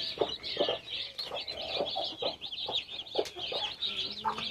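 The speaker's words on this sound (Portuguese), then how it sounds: "Ela é uma galinha bem grande, ó." A large hen clucks steadily among her newly hatched chicks at a farm, with soft chick peeps and chirps layered over the low, repeated clucking throughout.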